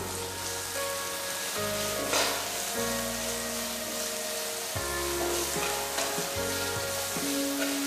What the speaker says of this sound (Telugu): కరివేపాకు కొద్దిగా, పుదీనా కొద్దిగా వేసి వేయించుకోవాలి.